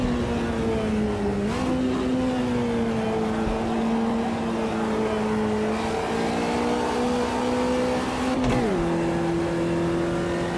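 Engine drone of a Volkswagen Fusca in the racing game Automobilista 2, a steady mid-pitched hum that dips at each gear change, including an early shift into fourth that leaves the engine bogging, with no talking.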